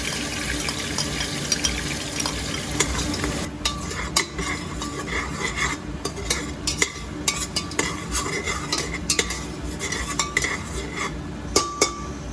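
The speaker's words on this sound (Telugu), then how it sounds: "పేస్ట్ వేసుకొని వేసేయండి. కొంచెం దోరగా బాగా ఫ్రై అయ్యేటట్టు కొంచెం చేసుకున్న తర్వాత" Onion paste frying with a bay leaf for mutton paya curry, giving a busy, crackling sizzle with frequent clinks and scrapes of a metal spoon against the pot.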